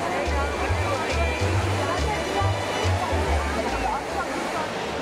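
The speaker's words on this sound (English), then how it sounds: "This is the 18th century Trevi Fountain." The 18th-century Trevi Fountain in Rome, fed by an ancient aqueduct, sends a continuous rushing splash of falling water, with voices audible over and around the steady roar.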